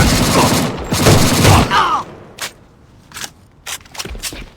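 Rapid gunfire from a SCAR-L rifle in the online shooter A.V.A, a loud burst for about two seconds followed by a few scattered single shots and clicks, with no speech.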